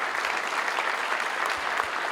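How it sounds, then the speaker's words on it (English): An audience applauds at a Montgomery County Sheriff's Office promotions ceremony, steady moderate clapping from a crowd lasting a couple of seconds. "Please join me in a round of applause"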